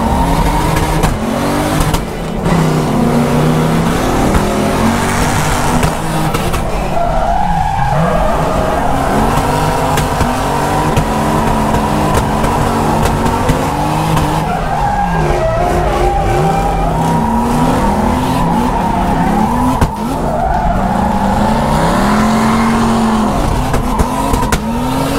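Cars drifting door to door on a track, with continuous loud engine roar, revving and long tire squeals and skids throughout, close and dense, with no talking.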